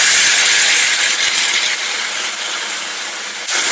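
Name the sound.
tamarind water sizzling in hot pan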